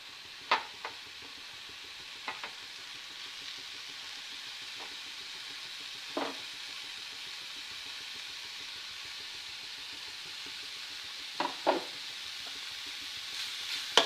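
Carrots sautéing in a pan for a sweet stuffed carrot snack, a steady soft sizzle running throughout with a few brief spatula stirs and scrapes, no talking.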